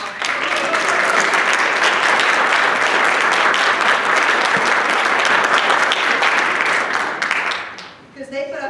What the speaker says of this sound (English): I do want to give them a round of applause right now